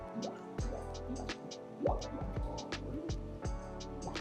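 Liquid bubbles and drips inside a CS700 machine during its cleaning rinse, a steady run of wet pops and gurgles with low thumps, fairly close and continuous.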